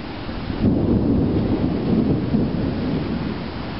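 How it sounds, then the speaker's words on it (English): A severe electrical storm rumbles with deep, rolling thunder over a steady wash of heavy rain, loud and continuous, with no voices. "It's a very dangerous electrical storm."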